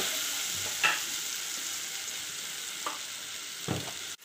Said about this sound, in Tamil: நல்லா பொரிஞ்சு வந்துடுச்சு